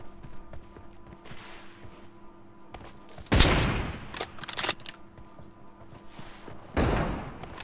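Sniper shots from an M24 rifle in a 1v1 mobile shooter match: two loud, sharp cracks a few seconds apart over a low game background hum, with a faint metallic click between.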